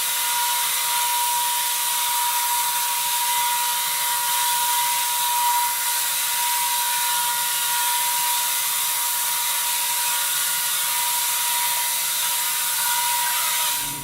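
Tile and grout cleaning machine scrubbing a restroom floor with a brush, a steady continuous motor whir with a thin high tone running loud and unbroken throughout, stopping abruptly at the very end.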